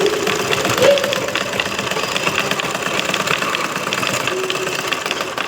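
A sewing machine running steadily while stitching a folded seam in fabric for a tailoring job, its rapid needle rattle close and fairly loud, continuous for the whole stretch with no clear pauses.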